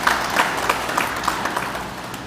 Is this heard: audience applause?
yes